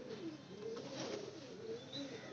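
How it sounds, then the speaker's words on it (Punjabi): Pigeons coo in a steady, repeating murmur, close and clear with no talk over it. The birds are Neelay Kamagar pigeons being shown for sale in Lahore. "ਲਓ ਦੋਸਤੋ ਇਹ ਦੂਸਰਾ ਕਬੂਤਰ ਜਿਹੜਾ"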